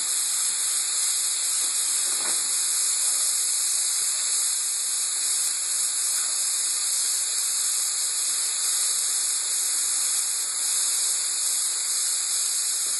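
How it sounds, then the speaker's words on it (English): Steam hisses steadily from cauliflower rice being tossed in a hot pan, a constant loud sizzling hiss that runs unbroken for about thirteen seconds with no voices. "Let some of that steam escape."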